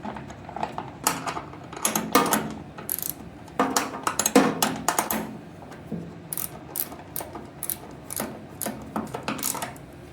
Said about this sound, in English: Just love trying to thread in bolts when it's freezing outside and you can't feel your fingertips.